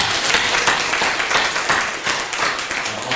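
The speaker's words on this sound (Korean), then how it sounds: "힘차게 박수하겠습니다" A church congregation claps steadily and vigorously at a year-end Sunday service, a dense, even wash of applause from many hands filling the room throughout.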